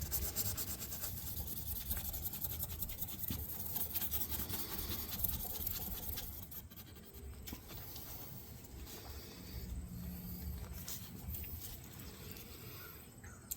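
Wet/dry 1000 grit sandpaper scrubbing across pitted metal, a close, steady rasping rub that runs continuously with slight shifts in pressure and stroke.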